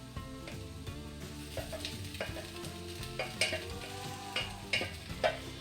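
Rice vermicelli goes into a pan seasoned with turmeric and is stirred, giving soft sizzling with repeated scraping and clattering stirring strokes close by.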